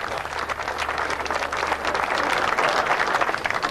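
Applause from a large outdoor crowd in St. Thomas Square after a strongman lift, dense steady clapping at moderate distance with no pauses, along with a faint low hum underneath.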